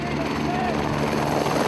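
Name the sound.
helicopter flying over a film set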